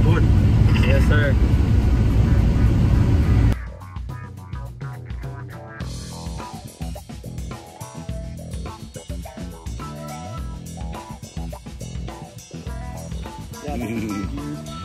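A small hot rod sports car roars loudly and close by for a few seconds of driving, then the engine noise drops away beneath people chatting and other sounds.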